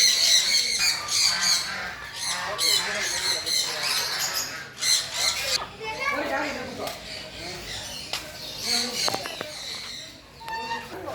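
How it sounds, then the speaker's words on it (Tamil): Many parrots squawk and screech close by in an aviary, including yellow parrots, in a busy, overlapping chorus of shrill calls, with faint voices in the background. "இந்த கூண்டுக்குள்ளே நீங்கள் வரும்போது கிளிகள்லாம் உங்கள் பக்கத்துலேயே வந்து பார்ப்போம்"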